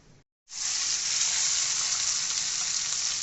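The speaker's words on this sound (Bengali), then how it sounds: "জ্যান্ত মাছের পোনা মাছের তরকারি হচ্ছে দেখুন মাছটা দিচ্ছে" Live pona fish hits a hot pan for a fish curry, setting off a loud, steady sizzle that swells after a brief moment of silence and holds strong throughout.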